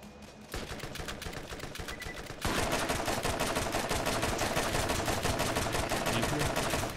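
Rapid turret fire in Borderlands, a tight stream of evenly spaced shots that starts after a short pause and grows louder partway through, then keeps hammering on without a break.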